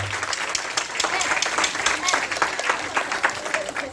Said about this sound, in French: Applaudissez-vous encore.